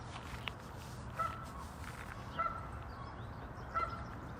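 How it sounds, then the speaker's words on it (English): Geese honk on a calm lake at East Lake, Seattle, three short distinct honks spaced evenly over quiet, faint outdoor background. "you can definitely hear those geese"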